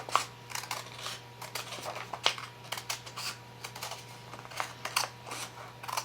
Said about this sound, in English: I'm taking small bites, and my scissors are going to hold the paper as my helper hand moves.